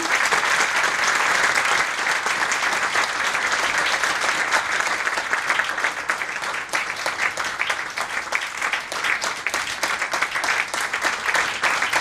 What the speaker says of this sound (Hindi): आप प्लीज तालियों से अभिनंदन करें।